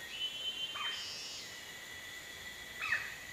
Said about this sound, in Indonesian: Itu suara tupainya.